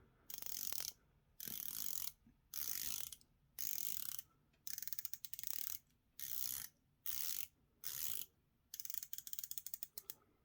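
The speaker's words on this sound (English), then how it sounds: "the 120 click unidirectional bezel, let's have a look at that" A 120-click unidirectional bezel on a vintage-style dive watch turns in about nine separate bursts, each a rapid, crisp run of tiny clicks, close and alone.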